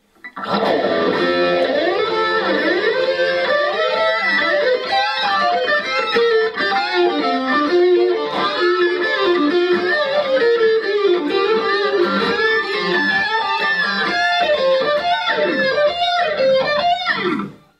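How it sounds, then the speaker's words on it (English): Sustained electric guitar solo, drenched in long, swirling modulated delay and phaser, notes trailing into one another continuously for the whole passage. "And this delay also has a little modulation."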